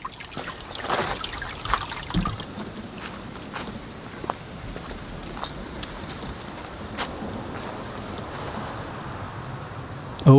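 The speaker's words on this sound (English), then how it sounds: "looks like we got ourselves a creek" Creek water trickles steadily in a forest of old-growth redwoods, with a few footsteps on the trail near the start and a continuous soft flow underneath.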